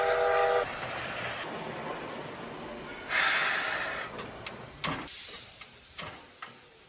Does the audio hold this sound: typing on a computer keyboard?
no